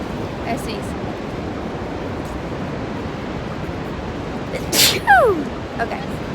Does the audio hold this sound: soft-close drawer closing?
no